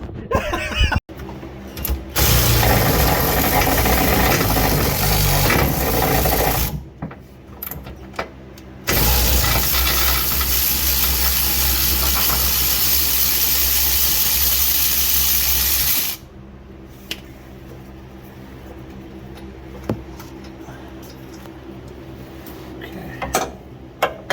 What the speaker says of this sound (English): I'm using a power driver to get them out.